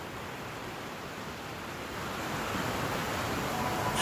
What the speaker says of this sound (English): Look at that sound, a combination of train and the water.